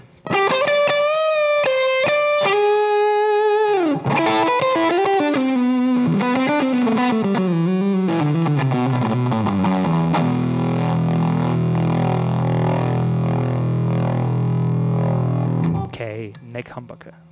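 Electric guitar through an amp with a Kool & Elfring ACE Boost pedal, loud and continuous: distorted sustained chords and melodic lines, then lower driven notes ringing on before a brief pause and a final strum.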